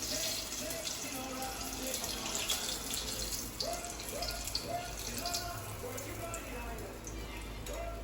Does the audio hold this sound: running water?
yes